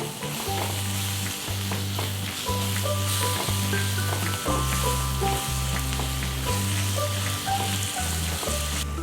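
Prawns frying with turmeric and ginger-garlic paste give a steady, close, loud sizzle, broken by clacking stirs and a low steady hum beneath, with no talking.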